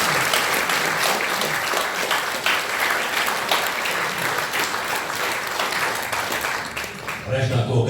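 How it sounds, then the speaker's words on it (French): A lecture audience claps in steady, full applause that fills the room for several seconds, then thins out toward the end. "On applaudit cette arrêt"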